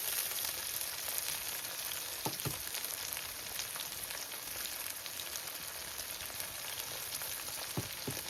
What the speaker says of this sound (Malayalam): നമുക്ക് ഇതിനെ നല്ലപോലെ വഴറ്റിയെടുക്കാം.